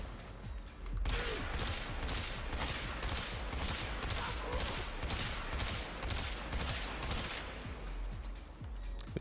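Rapid, dense in-game gunfire from the Sentient Barrage Battacor in Warframe, a continuous loud stream of shots running almost the whole time with a brief pause near the start.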